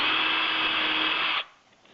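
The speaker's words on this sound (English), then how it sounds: "drill bit to drill into the stretcher bars" A power drill fitted with a countersink bit bores into canvas stretcher bars, giving a steady, loud whirring whine that runs for about a second and a half and then stops abruptly, with no talking.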